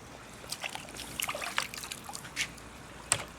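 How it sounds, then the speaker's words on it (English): Running water trickling and splashing over a freshly filleted mullet as it is rinsed, with soft intermittent drips and splashes close by and no voices. "I'm going to give him a quick rinse real quick."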